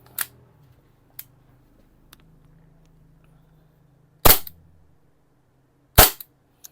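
Umarex Glock G19/G17 Gen5 gas airsoft pistol test-fired indoors: two loud, sharp cracks a couple of seconds apart, each with a short echo, plus a few faint clicks and handling noise in between.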